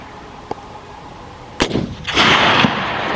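A rifle shot fired at a red deer during a hunt: a single sharp crack from the gun, then a louder burst of noise that trails off outdoors, with no talking.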